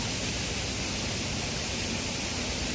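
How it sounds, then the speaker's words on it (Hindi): A small waterfall at Ramabuti on Bailadila Hill gives off a steady, even rush of falling water, a constant broadband hiss with no break across the whole moment. "ये झरना है, छोटा सा दिखा रहा है"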